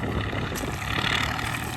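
Tractor harvesting sunflowers in a field, a continuous broadband engine and machinery roar, steady and fairly loud throughout with no pauses.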